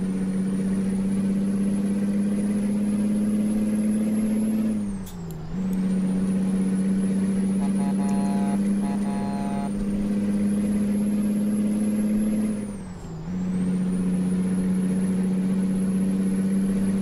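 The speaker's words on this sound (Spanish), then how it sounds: "Escuchemos nuevamente el motor, ahí lo tienen." A Chevrolet C70 box truck engine runs steadily and loudly on a Colombian road, briefly dipping twice as if shifting or easing off, with a high whine above the low rumble.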